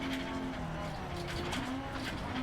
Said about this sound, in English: Love the turbo noise as you lift off